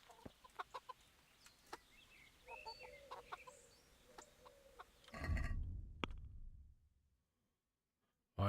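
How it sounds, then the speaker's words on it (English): Chickens cluck in the medieval game Kingdom Come: Deliverance, a scatter of sharp, quiet clucks and squawks over faint ambience, swelling into a busier flurry before cutting to silence. "Chickens."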